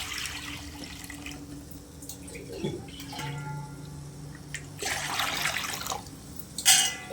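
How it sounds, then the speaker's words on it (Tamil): Water splashes and trickles in uneven bursts as three jugs of water are poured into a metal pan on a stove, with a few clanks and a brief rushing pour near the end. "மூணு சொம்பு தண்ணி ஊற்றிக்கோங்க"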